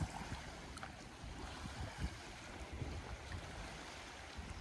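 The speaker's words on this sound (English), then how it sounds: "It is so windy right now." Wind gusting near the coast at an outdoor park, a steady low rumble of buffeting air against the microphone with a broad hiss and soft surges, no voices.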